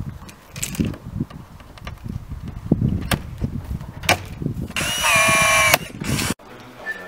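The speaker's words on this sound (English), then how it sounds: "once it's in place, we rivet it" Power tool whirring and the sharp clunks of a rivet gun setting rivets while a glass-screened hood is fitted to an MGF, close and loud, with a burst of high-pitched tool whine near the end.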